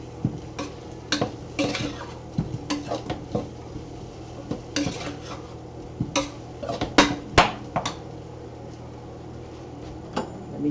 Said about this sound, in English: potato. Saute for a few seconds.